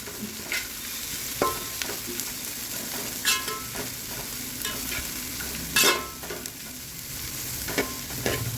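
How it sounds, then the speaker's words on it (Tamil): Mixed vegetables for veg Hakka noodles stir-fried on a high flame, a steady sizzle broken by repeated scraping and tossing strokes of a spatula, close and fairly loud with no talking. "எல்லா காயும் சேர்த்துக்கிறேங்க. ஹை ஃப்ளேம்லேயே தான் செய்யணுங்க."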